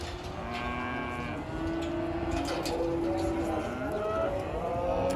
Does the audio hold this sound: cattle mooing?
yes